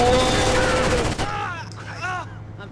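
Video game gunfire from Rainbow Six Vegas 2 Terrorist Hunt on the Trainyard map, with loud, dense automatic bursts that fade after about a second. Voices talk over the shooting and keep going after it stops.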